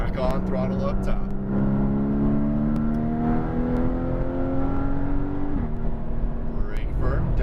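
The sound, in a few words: race car engine accelerating on track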